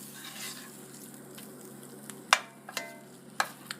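Oil sizzling in a cast iron skillet, a soft, even hiss punctuated by a few sharp pops and clicks.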